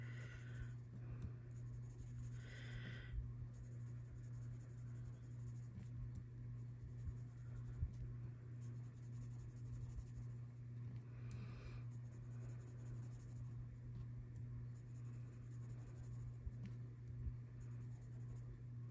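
Sunburst Yellow colored pencil shading the centers of drawn sunflowers on paper, a soft continuous scratchy rasp in steady back-and-forth strokes, close and quiet over a low steady hum.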